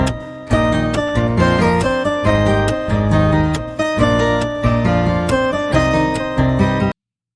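A single melodic instrument loop is layered at three pitches, the highest one mixed at about half volume, giving a full, rhythmic repeating pattern that plays alone and stops abruptly.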